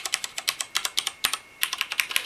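Fast typing on a FUNC KB 460 backlit gaming keyboard with Cherry MX Red switches: a close, rapid series of soft clacks with a brief pause midway.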